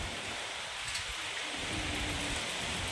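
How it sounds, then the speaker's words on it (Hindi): Steady rain falls outdoors near a tent during a storm, a continuous even hiss with no pauses. "टप टप होती बरसात"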